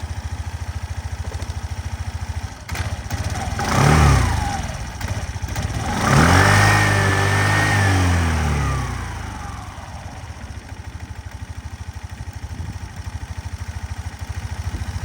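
A Suzuki Address V 125 S scooter engine idles steadily up close, rising into two brief revs that swell louder and then settle back to a smooth, even idle.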